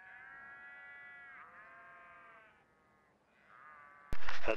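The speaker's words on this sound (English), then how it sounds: "At this time we had the sheep gathered into a tight bunch to work on them." A flock of sheep held in a tight bunch on Crowfoot Mountain, British Columbia, bleats in several drawn-out overlapping calls, moderately close, before a sudden loud burst of noise at the end.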